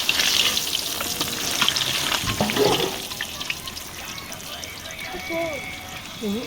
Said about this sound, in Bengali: পটলটা খুব লাল লাল করে ভাজা হয়ে গেছে